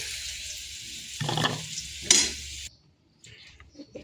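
Potatoes frying in hot oil in a pan, for an Odia potato and fish dish, hiss in a steady broad sizzle with a stir and a sharp crackling burst, then cut off abruptly to near silence with faint kitchen noise.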